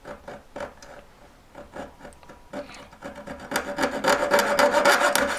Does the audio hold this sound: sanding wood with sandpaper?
yes